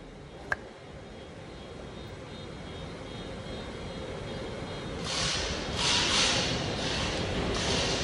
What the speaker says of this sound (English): this is an airlift that I use for coolant systems